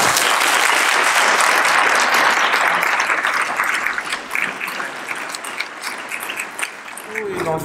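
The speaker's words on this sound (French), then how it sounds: "Vous l'applaudissez." Loud, dense applause from a large audience fills the room, then gradually thins toward the end as a voice begins to speak.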